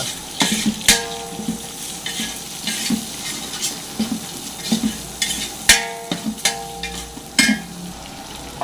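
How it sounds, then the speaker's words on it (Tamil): Onions fry with salt in a large pot for a big batch of tomato rice for a Murugan temple offering, a continuous sizzle broken by repeated scraping stirs and sharp clanks of a ladle against the metal pot. "வெங்காயம் நல்லா ஃப்ரை ஆகிட்டு வருதுங்க"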